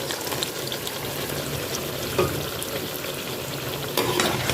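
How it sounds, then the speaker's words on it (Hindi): Yogurt being stirred quickly into chicken curry over medium heat, a dense continuous sizzle with a wet, bubbling texture and a couple of louder scraping stir strokes, close and with no talking. "इसको मीडियम आंच में तेज़ी के साथ मिक्स करेंगे।"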